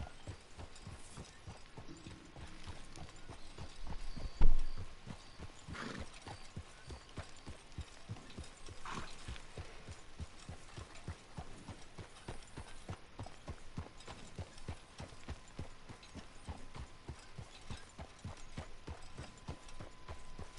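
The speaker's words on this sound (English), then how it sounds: "Look at the pace on this horse. It's an extraordinary pace. What a canter." A horse canters in Red Dead Redemption 2 Online, its hooves beating a fast, steady rhythmic clip-clop that continues throughout at a fairly faint level, with one brief louder thump early on.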